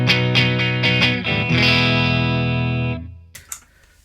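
An electric guitar with a clean tone and a touch of gain rings out in several picked notes building into a sustained chord with shimmering effects, which then cuts off, followed by a couple of faint clicks.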